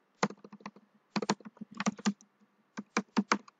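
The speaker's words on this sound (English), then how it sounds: "go to anaconda prompt open this and then type pip install" Someone types on a computer keyboard in quick bursts of crisp key clicks separated by short pauses. The clicks are close and clear, with no talk.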